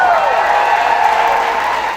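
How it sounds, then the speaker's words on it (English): Applause from hundreds of people at a festival celebrating land returned to Métis people, a dense continuous wash of clapping and crowd noise with a voice over it. "Hundreds of people burst into applause"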